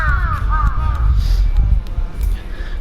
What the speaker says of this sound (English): That's why all the crows are here.